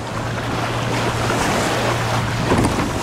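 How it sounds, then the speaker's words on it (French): Small motor boat heading out to sea, its engine droning at a constant pitch beneath wind and rushing water, heard close and continuous. "Équipés de moteurs incertains et de barques instables, nous partons en mer."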